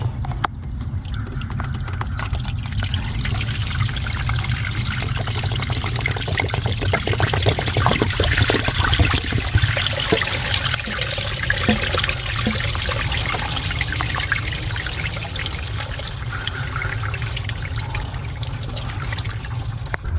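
Engine coolant trickling and draining out of a housing during a thermostat replacement, a steady liquid dribble and pour that runs continuously close by, with no talking.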